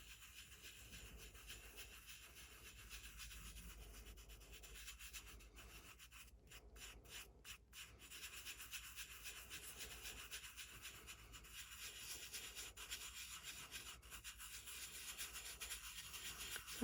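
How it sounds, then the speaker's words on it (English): Holographic glitter is burnished by hand over a tacky UV coating, giving a quiet, continuous scratchy rubbing with repeated back-and-forth strokes and a few brief pauses, with no talking. "Alright, so now we're going to burnish."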